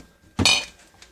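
A glass jar clinks once against a hard surface, a single sharp ringing knock that fades quickly in an otherwise quiet room.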